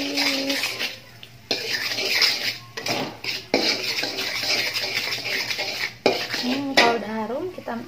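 Spices for sayur asem are sautéed in a pan, with metal utensils scraping and clinking against the cookware in brisk, uneven strokes up close, and a sizzling hiss underneath.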